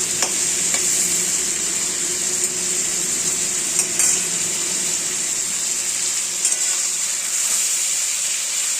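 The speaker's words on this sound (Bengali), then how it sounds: "দেখো বন্ধুরা, পটলটা ভাজছি," Pointed gourd sizzles steadily in a hot pan while a utensil scrapes and stirs now and then, close and continuous with no talking.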